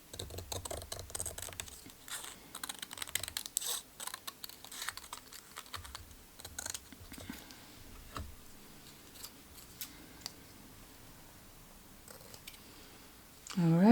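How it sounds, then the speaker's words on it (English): Scissors snip through collage paper for an art journal in a quick irregular run of close, crisp cuts, then quieter scattered snips, ending with a brief louder rustle. "I'm going to snip it in 3 pieces."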